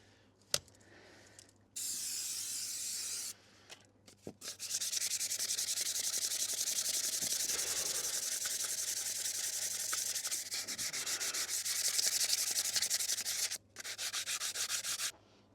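Wet and dry sandpaper scrubs a Land Rover Defender 90 clutch in rapid back-and-forth strokes, a close, gritty hissing rasp coming in bursts with short pauses between.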